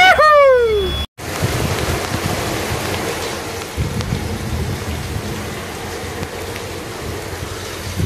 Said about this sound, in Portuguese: olha o tamanho dessa chuva